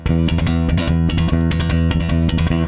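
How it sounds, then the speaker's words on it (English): Bass guitar playing a galloping riff with three-finger picking, a steady driving rhythm of repeated pitched notes, loud and close, alone without talk. "Okay, so it's got that galloping, that horse galloping feel."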